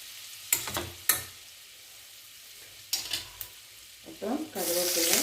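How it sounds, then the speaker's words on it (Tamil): Cinnamon and cloves fry in butter for a spicy green-chili mint kurma, crackling in short intermittent bursts close by, with a louder stretch of sizzling near the end. "பட்டை, லவங்கம், அதோடு சேர்த்து நம்ம பட்டர் சேர்த்துக்கலாம்"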